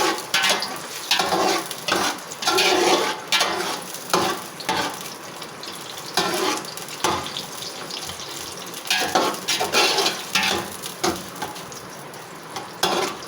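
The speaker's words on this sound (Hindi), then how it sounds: "चलिए जी हम इनको ब्राउन करते हैं प्याज को" Onions browning for a mixed vegetable pulao sizzle steadily in a pot while a spoon stirs and scrapes through them, giving continuous loud frying hiss broken by irregular clatters and scrapes.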